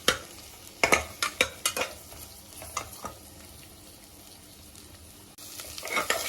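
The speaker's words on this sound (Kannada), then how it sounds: "ಈರುಳ್ಳಿನೂ ಹಸಿಮೆಣಸಿನ್ಕಾಯಿ ಹಾಕಿ ಹುರ್ಕೊಳ್ಳೋಣ. ಇದು ಚೆನ್ನಾಗಿ ಫ್ರೈ ಆಗಬೇಕು." Onion and green chillies frying in a pan for an Andhra-style chicken curry, a steady sizzle broken by several sharp scrapes and clinks of stirring near the start, then a quieter continuous fry that swells again at the end.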